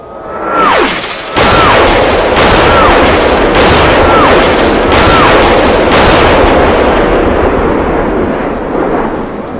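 Naval guns from several destroyers shell an island: a dense, loud, continuous roar of explosions and gunfire, punctuated by repeated descending whistles of incoming shells, each followed by a heavy boom.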